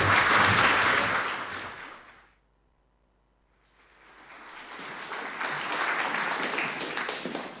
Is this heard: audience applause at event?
yes